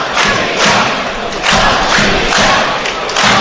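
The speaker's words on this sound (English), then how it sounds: "Latvia is the rhythmic chant from the crowd" A football crowd at the Latvia vs Wales match chants 'Latvia' in a loud, rhythmic, repeating pulse that fills the stadium, with roughly one beat every second.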